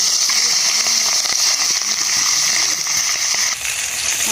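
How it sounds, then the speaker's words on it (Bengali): Hilsa fish frying in oil in a pan, a steady, dense hiss and crackle of sizzling oil that runs without break from start to finish. "একে একে ভেজে নেবো।"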